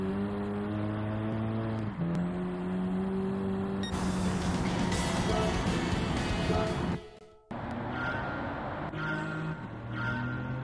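Race car engine in Gran Turismo 7 during a master licence run, a steady loud whine with harmonic pitch steps as it revs and shifts, briefly cutting out near the end before picking back up.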